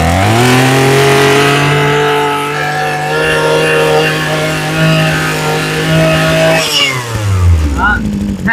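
A Honda GX35 four-stroke grass trimmer engine runs loud and close, its pitch rising as the throttle opens, holding a steady high drone, then dropping back to idle with a sputter.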